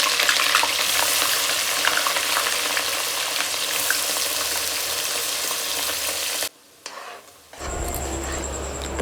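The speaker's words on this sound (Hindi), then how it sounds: "यहाँ पे मैंने प्याज फ्राई करने के लिए डाल दिए हैं" Onions frying in a pan in a home kitchen, a steady broadband sizzle running for about six seconds before cutting out, followed by a brief quieter stretch with faint kitchen sounds.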